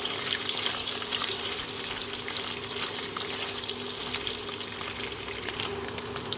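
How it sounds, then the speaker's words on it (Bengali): Paneer pieces frying in hot oil in a pan give a steady, soft hiss and crackle that runs continuously without talk. "এখানে আমি তেল গরম করে নিয়েছি প্রথমে পনিরগুলোকে ভেজে নেব"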